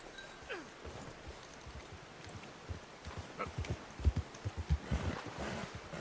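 Horse hooves clip-clop at a walking pace in the video game Red Dead Redemption 2, growing louder and more distinct as the steps continue, with faint rustling around them.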